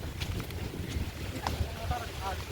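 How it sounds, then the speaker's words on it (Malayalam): Gusty, rainy wind buffets the microphone outdoors in Chalakudy, Kerala, in low rumbling bursts, with faint voices in the background. "നല്ല കാറ്റുണ്ട്"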